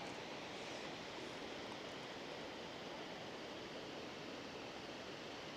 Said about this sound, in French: Et là il y a une belle cascade en bas.